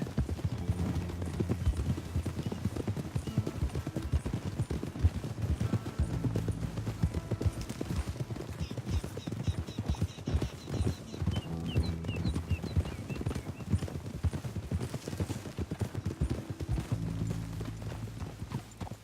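Horse hooves clip-clopping in a steady walking rhythm, moderately close and continuous, with faint background ambience and occasional low murmurs.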